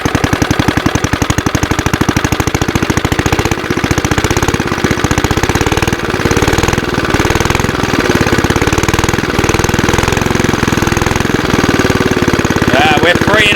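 A scrap Suffolk engine being rebuilt runs loud and close, a rapid steady knocking beat of firing strokes throughout, rising as the throttle is opened, with a voice briefly talking over it.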